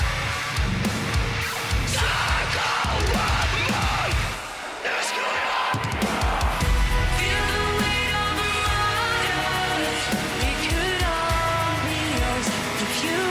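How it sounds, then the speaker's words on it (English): Heavily distorted electric guitars drive through a metal song, dense and loud with pounding drums, dropping briefly into a short lull before crashing back in at full force. "Listen to the guitar in both ears."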